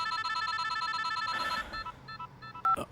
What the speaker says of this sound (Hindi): श्री, फोन क्यों काट रहे थे तुम?